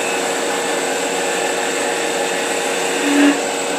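Steady whirring of a spinning wood lathe as a turning gouge makes an oblique cut on the wood, a continuous even tone close by with a brief brighter swell near the end.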